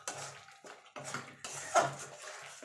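A spoon stirs coriander powder into chana masala with yogurt in a pan, with several close, wet scraping strokes in a quick uneven rhythm.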